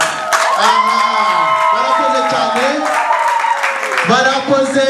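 Wedding guests clap and cheer for the bride and groom. The lively crowd noise runs under loud, overlapping voices throughout.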